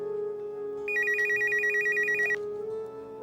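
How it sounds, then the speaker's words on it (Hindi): A telephone rings in a TV drama scene, an electronic warbling trill sounding once for about a second and a half over a steady background hum, close and clear. "अरे देखो, किसका टेलीफोन है?"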